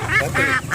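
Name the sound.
goose honking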